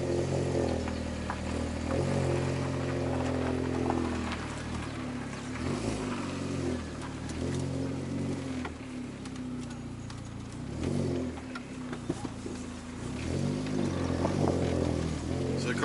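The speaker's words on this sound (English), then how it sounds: "So the car's not fully warmed up, so I'm not going to be able to gun it per se, but you'll be able to hear it." Volkswagen MK4 GTI, not fully warmed up, driving along with a steady engine and exhaust drone and low rumble, shifting pitch through gear changes, recorded from inside the car without talking.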